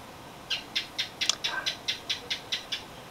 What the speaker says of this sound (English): I don't know if you can hear that little chirping, but there's a gecko that comes into my apartment every night